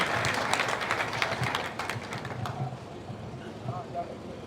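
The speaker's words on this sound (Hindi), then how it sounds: "तालियां भाई सभी के लिए" A crowd at a village welcome ceremony in Mandothi, Jhajjar, honouring newly commissioned lieutenants, claps in scattered bursts that fade after a couple of seconds while someone speaks over them.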